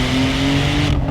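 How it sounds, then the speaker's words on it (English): A Gunther Werks Speedster pulls away with a loud, close engine roar that holds steady for about a second before dropping off abruptly. "Oh, there goes the Speedster."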